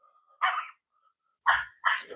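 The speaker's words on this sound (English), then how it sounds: "Getting barked at by a local dog." A local dog barks three times on a disc golf course at Glenn Argyle, with one bark and then a quick pair, sharp and moderately close, with faint whines between.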